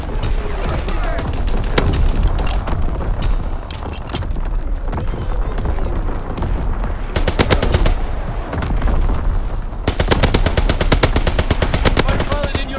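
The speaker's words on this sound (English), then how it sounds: "Firing division artillery" Division artillery barrage in Call of Duty: WWII on the Shipment 1944 map, loud sustained rattling gunfire and rumbling blasts throughout, with dense bursts of rapid shots overlapping in a chaotic battle din.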